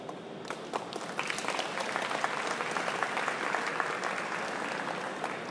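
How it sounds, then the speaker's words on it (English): A crowd applauds steadily, dense clapping from many hands that holds at an even level throughout. "giving these effective administrators a big hand or a round of applause."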